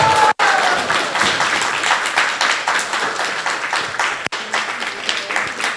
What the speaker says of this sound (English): Let's give a warm applause to Nirakula Mataji